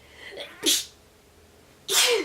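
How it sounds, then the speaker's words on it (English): Two sharp, close human sneezes about a second and a quarter apart, the first preceded by a quick intake of breath, each a loud, bright burst in a quiet room. "I just sneezed all over my computer screen."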